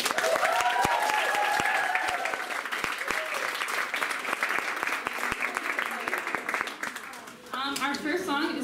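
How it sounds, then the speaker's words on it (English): A college a cappella concert audience gives a round of applause, dense clapping for several seconds with cheering voices mixed in, before fading as talk begins. "Let's give a round of applause."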